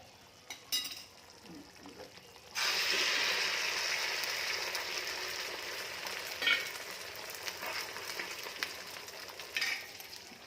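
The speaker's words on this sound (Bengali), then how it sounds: "এই যে মশলাটা ফুটে এসেছে, মাছের মশলা।" Fish masala drops into hot oil with a sudden hiss that settles into a steady, close sizzle and fades slightly over time, with a few faint clinks before and during the frying.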